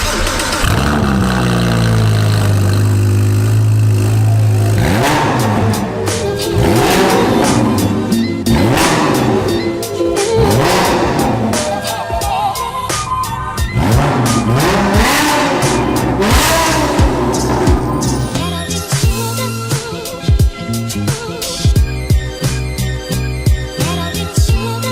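A sports car with a Novitec exhaust revs repeatedly, loud and close, its engine note sweeping up and down in rising and falling bursts over a steady rumble, with possible brief talk mixed in.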